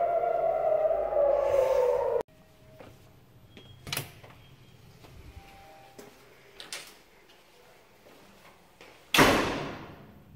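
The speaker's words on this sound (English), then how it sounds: "That's a heavy door." A heavy bomb shelter door thuds shut, then quiet with a few clicks and knocks, ending on another loud slam of the door.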